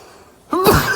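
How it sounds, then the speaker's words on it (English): A single sharp sneeze bursts out abruptly after a near-quiet moment while sightseeing outdoors in Luxembourg, loud and close. "Oh, I'm about to sneeze"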